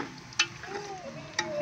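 Onions browning in a frying pan give a soft, fairly quiet sizzle with two sharp spoon clinks against the pan.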